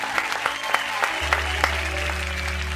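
A studio audience on a television show applauds, moderately loud clapping joined by a low steady hum partway through.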